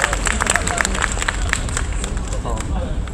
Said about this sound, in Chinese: 请大家给我们一个可怜的掌声